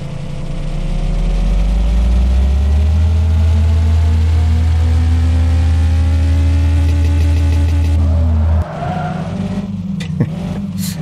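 Honda CRX in the game Denizen, its engine droning steadily and loud as it drives, pitch rising then settling, before the sound cuts to quieter rolling noise with a few light knocks near the end.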